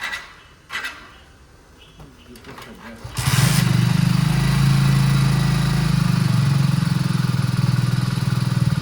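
A motorcycle engine fires up and settles into a loud, steady, close-range running drone, following a few seconds of quieter background noise.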